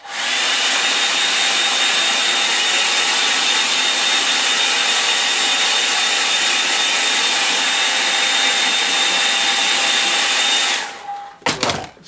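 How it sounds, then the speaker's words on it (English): A hair dryer blows steadily and loudly on watercolour paint for about eleven seconds with a constant whine, then cuts off, leaving brief handling noises. "I'm going to use the dryer again."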